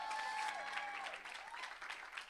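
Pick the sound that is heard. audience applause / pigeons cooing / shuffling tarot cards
audience applause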